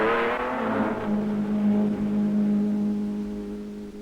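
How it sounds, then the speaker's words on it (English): A Triumph Spitfire race car engine in competition, a loud sustained note that rises briefly and then holds a steady high drone as the car runs at speed, with no voices. "The atmosphere was tense as Hobbs took the Spitfire back into the battle."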